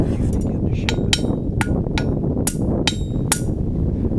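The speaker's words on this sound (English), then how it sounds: "bring it over to the anvil, select a hammer, and you begin to shape it." A hammer strikes hot metal on an anvil in a blacksmith's forge, giving about a dozen ringing metallic blows at an uneven pace over a steady rumbling background roar.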